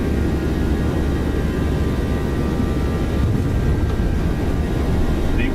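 A Boeing 737-600 in the X-Plane flight simulator accelerates down the runway on its takeoff roll, giving a loud, steady engine roar and rumble that holds unchanged throughout with no voices.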